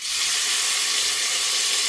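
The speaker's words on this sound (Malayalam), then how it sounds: "കുക്കർ കുറച്ച് ഓയിൽ ഒഴിച്ചിട്ട് വെച്ചതാണ്" Beef fries in oil inside a pressure cooker, a loud, dense, steady hiss and sizzle close by, unbroken for the whole short stretch with no voices.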